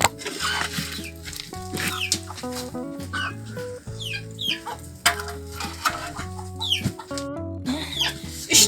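Several chickens cluck and squawk close by in a yard, with overlapping calls and a rooster-like cry, steady and fairly loud, and no talk.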